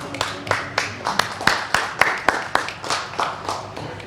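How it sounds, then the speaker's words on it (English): Audience at a Canadian police team event clapping in honor of a police bravery award, a steady run of sharp, evenly spaced claps close by with a few voices faintly underneath. "Clapping for that award."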